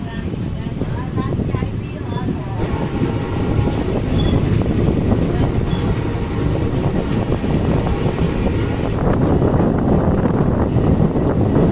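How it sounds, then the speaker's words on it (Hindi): A Kathgodam–Moradabad passenger train pulls out of Roshanpur railway station, heard from on board: loud continuous wheel rumble and clatter with wind buffeting, and brief high squeals recurring through it. "2 मिनट के स्टॉप के बाद रोशनपुर रेलवे स्टेशन से निकल रहे हैं"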